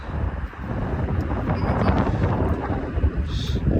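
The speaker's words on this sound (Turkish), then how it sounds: "rüzgarın şiddetini Türk bayrağımızın dalgalanmasından da görebiliyorsunuz" Steady, broadband wind roars across the microphone with low rumbling buffeting throughout, constant and close, with no pauses.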